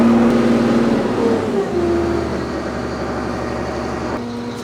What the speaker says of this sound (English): we're wide open throttle, still pulling in an easier gear